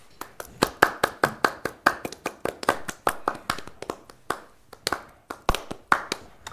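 Clapping on a music review show, a small group or a single pair of hands, sharp and close. The claps come as separate, fairly regular strikes rather than a dense crowd roar.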